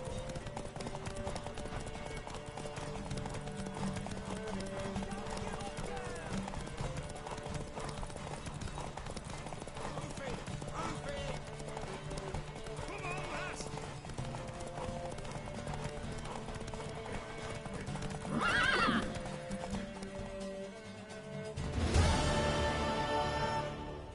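A horse in the video game Witcher 3 trots with steady rhythmic clip-clop hooves over a game soundtrack, followed late by a short neigh and a louder burst of movement near the end.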